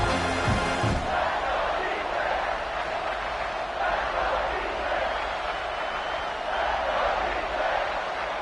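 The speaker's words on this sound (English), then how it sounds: "The Tide crowd rolling noise down onto Saban Field on third down." A football stadium crowd roars on third down at Saban Field for the Alabama Crimson Tide, a broad sustained wall of noise after a brief louder burst at the start.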